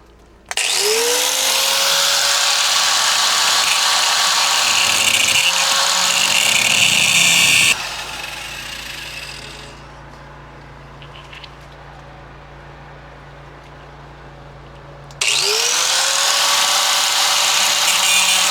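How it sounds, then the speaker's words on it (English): Power grinder cutting off old lights on a Peterbilt truck, loud whining bursts that spin up and run steadily, pausing to a quieter hum in between before starting again. "We gotta grind them off."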